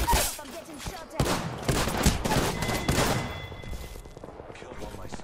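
Rapid gunfire from a round of the battle royale shooter Apex Legends, dense bursts and single shots crackling close and loud throughout, with impacts and thuds mixed in and a player voice underneath.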